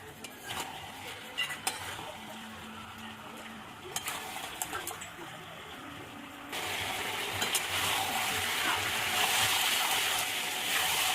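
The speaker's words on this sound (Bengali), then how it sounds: "চিকেনের সঙ্গে মিশিয়ে নেব মশলার সঙ্গে" Chicken is stirred with spices in a pan for a spicy chicken kosha, with scraping strokes over a sizzle that grows markedly louder and denser partway through.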